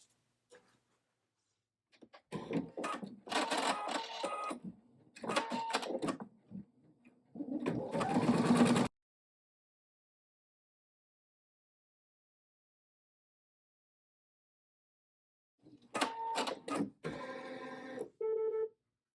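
An embroidery machine stitches a mug rug in the hoop in several short, loud mechanical bursts of rapid clattering, then falls silent for a long stretch before starting up again with another run of stitching.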